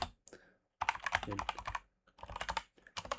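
Quiet, close typing on a computer keyboard comes in several quick clattering bursts separated by short silent pauses.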